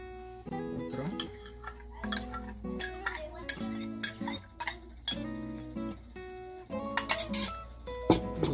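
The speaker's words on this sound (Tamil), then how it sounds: "இப்போ கடைசி பங்கு நெய்யை ஊற்றுறோம்." Ghee poured into a pan of Tirunelveli halwa during home cooking, with a spoon clinking and scraping against the vessel as it is stirred, in repeated rhythmic bursts of metallic clatter close by.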